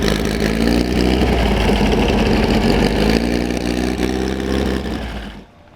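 Engine of a tuned classic VW Beetle running steadily with a low, throbbing rumble, fairly close and constant, then cutting out abruptly near the end.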